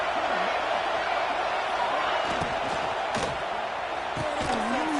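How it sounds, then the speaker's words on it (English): Roaring college football stadium crowd noise on a third down in an Ole Miss vs Georgia game, a loud, dense, sustained wall of cheering with a commentator speaking over it. "This dog crowd is off the leash, and they are coming after them, bringing noise on third down"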